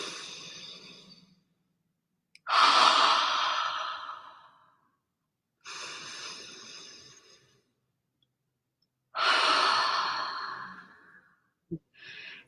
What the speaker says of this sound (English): we're going to take 2 deep breaths, so exhale fully.